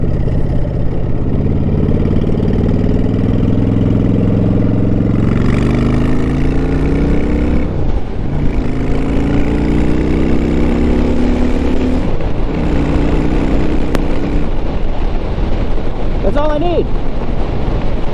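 A Honda Shadow 750 motorcycle engine runs steadily throughout, its low rumble rising and falling with gear changes amid constant wind buffeting on the open road, with no talk over it.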